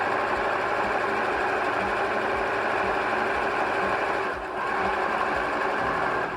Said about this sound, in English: I'm going to go a few steps up, and then we're going to back stitch.